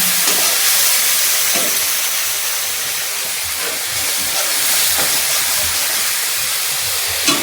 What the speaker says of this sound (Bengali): সুন্দরভাবে মশলা ভেজে নিই